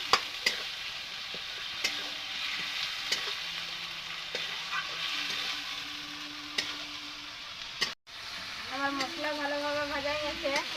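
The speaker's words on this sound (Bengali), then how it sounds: "এই যে এটা ভালোভাবে ভাজিয়ে নিচ্ছে মশলাটাকে" Steady sizzling of garlic spice paste frying in hot oil for chicken kosha, with occasional stirring scrapes, briefly cutting out before the sizzle resumes, louder and crackling.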